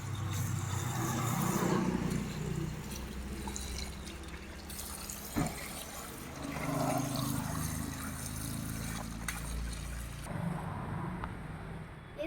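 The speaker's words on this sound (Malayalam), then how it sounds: "വെള്ളം ഒഴിച്ചോണ്ടിരിക്കും." Water is poured over aquarium stones being washed, giving a faint, continuous trickle and splash with occasional drips and knocks, quiet and close.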